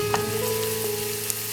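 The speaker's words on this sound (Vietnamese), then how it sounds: "Mình sử dụng 1/2 già số tỏi băm để phi vàng lên." Minced garlic frying in hot oil until golden for a beef stir-fried noodle dish, a steady close sizzle with a few soft stirring taps, and no talking.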